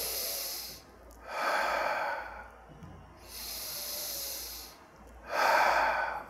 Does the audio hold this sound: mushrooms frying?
no